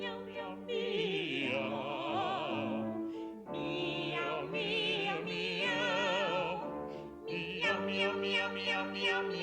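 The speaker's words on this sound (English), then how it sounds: "Meow." Several drawn-out, wavering cat meows, one after another with short gaps, loud and close.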